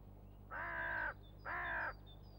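Crows mobbing a predator give two loud, harsh caws in quick succession, each lasting about half a second, close by over a quiet outdoor background.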